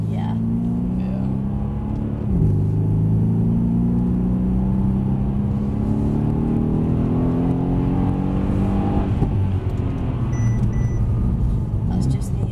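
A Mercedes C63 AMG sedan on a rain-soaked track gives a loud, steady engine drone heard from inside the car, with one sharp dip in pitch as it changes gear before climbing again under constant road rumble.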